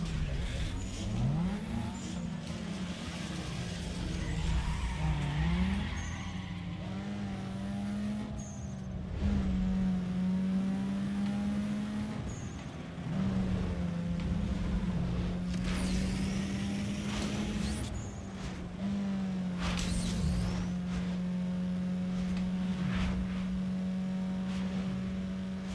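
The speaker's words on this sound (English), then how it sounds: "Let's do this drag race." Several tuned street cars, including a Golf, an Eclipse and a Focus, drag racing in Need for Speed Underground 2, with a steady droning engine note that rises and drops through gear shifts while a voice talks over it.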